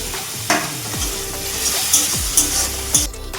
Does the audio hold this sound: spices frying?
yes